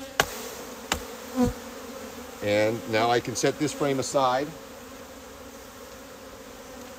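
A crowd of honey bees hums and buzzes around an open hive during an inspection, steady and moderately close, with a few sharp knocks of a frame near the start and someone talking briefly over the buzzing.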